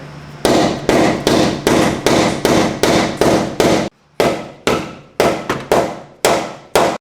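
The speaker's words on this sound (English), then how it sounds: "Now that we got those slots cut, we're gonna hammer it home." Hammer blows strike a Mazda Miata's cut car frame along freshly cut slots, about a dozen loud, sharp metallic impacts in a steady rhythm with a brief pause midway, close and alone.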